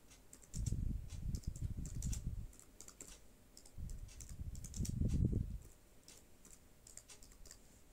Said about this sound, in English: from the text, I'm gonna type my title.